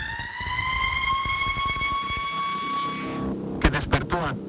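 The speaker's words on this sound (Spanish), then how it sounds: "las alarmas comenzaron a sonar con una intensidad ensordecedora" Alarm sirens blare at a Salvadoran prison complex in the middle of the night, a loud steady electronic wail with stacked tones that cuts off, leaving a few sharp knocks and bangs.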